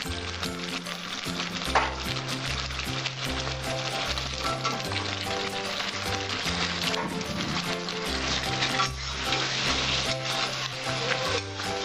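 Raw jackfruit pieces sizzle and fry in a hot pan of oil while being stirred for a Bengali prawn curry, a steady close crackling hiss with faint scraping of the spoon throughout.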